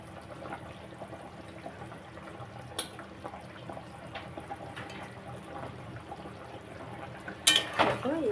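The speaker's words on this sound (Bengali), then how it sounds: "জলটা এবারে ফুটুক, এই ঝোল ফুটছে, এবারে মাছগুলো দিয়ে দেবো।" Bhola fish curry gravy simmers in a pot with soft, faint liquid bubbling and occasional drips, ending in a brief clatter of a utensil against the pot.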